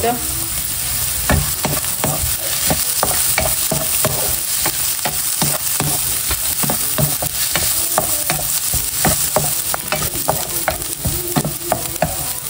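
Chopped onion and red chili saute in a pan for squid adobo, giving a constant loud sizzle broken by regular scraping and stirring knocks of a utensil against the pan.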